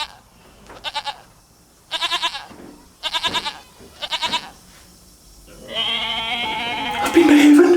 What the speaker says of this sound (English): the first thing you will hear is the sound of a goat.